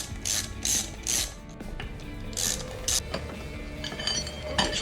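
Ratcheting clicks from a wrench removing the chain and sprocket on a Doodlebug minibike, several quick close bursts followed by softer metallic fiddling.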